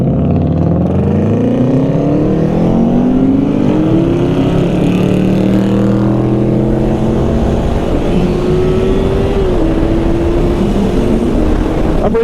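A loud motor vehicle passes close on the road, its engine rising and falling in pitch as it revs and shifts. The sound stays strong and continuous for the whole stretch, with no talk.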